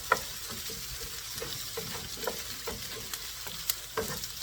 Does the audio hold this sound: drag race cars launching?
no